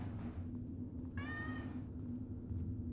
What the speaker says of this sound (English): You're meowing so much.